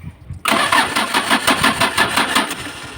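A Mitsubishi L300 with a 4D56 diesel engine cranks and fires up after a cylinder head replacement, a sudden loud start that settles into a rough, rhythmic, pulsing run close by.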